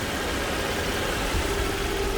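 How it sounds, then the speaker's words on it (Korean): A 2014 Genesis BH330 sedan with an eight-speed transmission idles with its air conditioning running, giving a steady, even engine drone and hum that holds constant throughout without any speech. "자 지금 에어컨을 틀고 엔진 소리 좀 들어보시는데"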